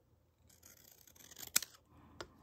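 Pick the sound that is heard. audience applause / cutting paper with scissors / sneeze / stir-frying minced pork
cutting paper with scissors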